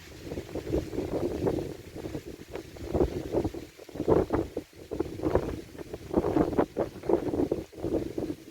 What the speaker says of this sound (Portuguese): Muito vento também.